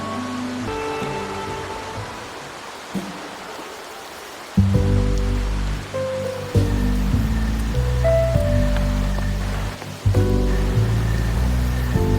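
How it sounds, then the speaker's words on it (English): Steady rain falls in the video game Wuthering Waves, a continuous wash of hiss beneath layered sustained music tones that swell and shift throughout. "Rain's back."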